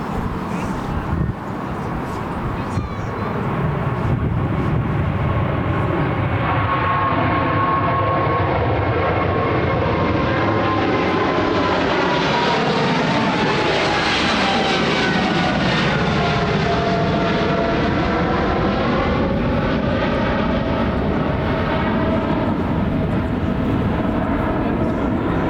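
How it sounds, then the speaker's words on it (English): Airliner passing overhead at London Heathrow, a loud sustained jet roar that builds, peaks with sweeping whine near the middle and slowly recedes, close and overpowering throughout. "here comes the next plane"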